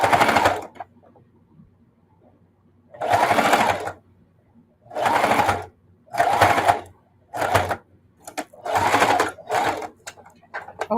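A sewing machine stitches a quilted casserole pad in repeated short bursts of rapid, close mechanical chatter separated by brief pauses, with no talk over it.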